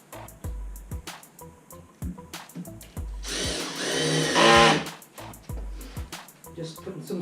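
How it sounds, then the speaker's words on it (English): A screw gun drives screws into plywood in a garage during snowplow prep, with a sustained whirring burst of several seconds in the middle set among scattered clicks and knocks. "Just putting some screws in."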